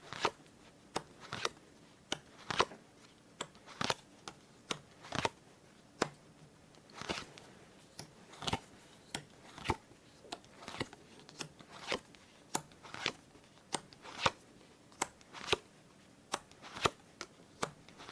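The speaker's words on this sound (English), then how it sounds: "So we will be laying out 5 rows of 10 cards, overlapping." Playing cards dealt one by one into ten overlapping solitaire tableau piles, each card landing with a soft crisp slap at a steady unhurried rhythm, close and quiet against a hushed room with no talk.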